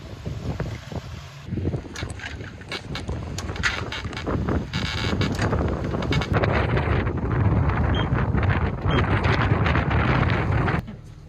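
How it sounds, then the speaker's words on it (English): Strong wind buffets the microphone in a steady, loud roar, with gusty rumbling and occasional creaks and knocks from a sailboat on the Intracoastal Waterway. "it's really windy out here"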